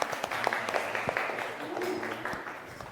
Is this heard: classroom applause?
yes